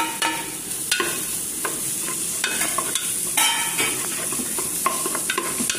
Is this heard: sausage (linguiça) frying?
yes